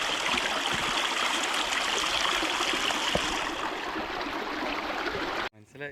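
A forest stream on a bear path trek in Parambikulam flows in a steady, full rush of water, close and continuous, before the sound cuts off abruptly near the end.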